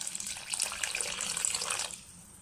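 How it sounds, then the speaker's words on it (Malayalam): Water is poured into a pan of mackerel chili curry, a steady splashing pour lasting about two seconds before it stops abruptly. "കുറച്ച് വെള്ളം ഒഴിച്ച് കൊടുക്കുക കേട്ടോ,"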